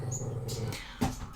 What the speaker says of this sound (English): If you're new here, that's my dog